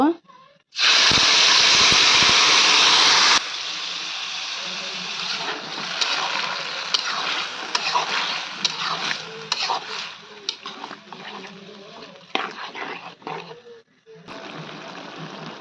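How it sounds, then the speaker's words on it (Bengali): Spice paste with bay leaves, green and black cardamom and cinnamon sautéing in a pan for a roast and egg korma: a loud burst of hissing sizzle as it hits the oil, then steady stirring, scraping and frying crackle close up. "মশলাটা আমি ভালোভাবে কষিয়ে নেব।"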